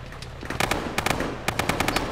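Bursts of automatic machine gun fire in an ArmA military shooter, several rapid volleys with short gaps, loud and close, sharp repeated cracks across about two seconds.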